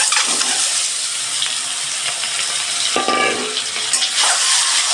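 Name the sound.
egg frying in hot oil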